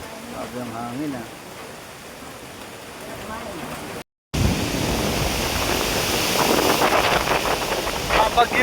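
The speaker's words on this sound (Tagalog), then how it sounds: "Grabe ang hangin ah." Strong typhoon wind during a Signal No. 1 storm in Dingalan, a dense roaring rush that swells louder after a brief cut, with voices calling out over it at the start.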